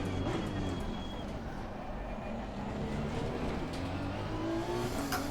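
Honda NSX race car in Assetto Corsa Competizione, engine held at high revs with a sustained, buzzing roar that rises steadily as speed builds, fairly distant in the mix, with no talking.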